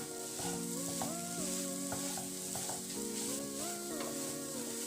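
Sugar and coconut ladoo mixture, flavoured with elaichi powder, sizzles in a hot pan while a spoon stirs and scrapes it, a soft, close, continuous frying hiss with repeated stirring strokes and faint background music.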